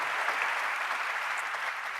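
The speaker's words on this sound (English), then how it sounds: "How about another round of applause?" A conference audience at the 10th annual Talent Connect breaks into dense, sustained applause after an opening act, many hands clapping together in a steady, even roar throughout.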